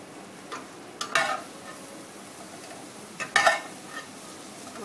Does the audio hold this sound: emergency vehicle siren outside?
no